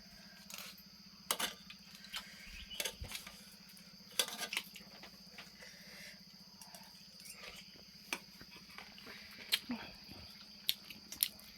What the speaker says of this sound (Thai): นี่ฝนกำลังปล่อยลงมาแล้วนะทุกคน